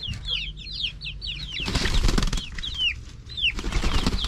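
Chickens' wings flap in quick bursts among chirping birds, with a louder flurry of flapping midway and another near the end.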